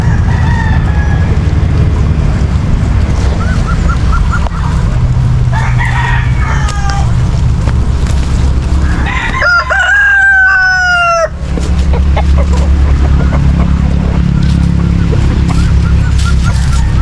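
Chickens and ducks in a free-range pen in the countryside, a loud busy flock with a rooster crowing clearly in the middle and honking and clucking over a constant noisy background.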